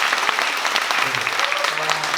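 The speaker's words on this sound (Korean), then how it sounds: "박수 한번 부탁드립니다" An indoor audience at a talk show with an author applauds, dense continuous clapping at steady volume throughout, with a voice speaking faintly underneath.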